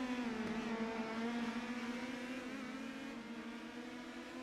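Indy Pro 2000 race cars in iRacing at the Long Beach street circuit, a high engine whine holding steady and slowly dropping in pitch as the car runs down Shoreline Drive, with a rumbling low end underneath.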